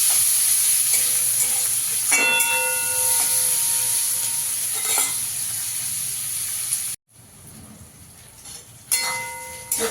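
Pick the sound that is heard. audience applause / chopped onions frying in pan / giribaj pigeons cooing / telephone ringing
chopped onions frying in pan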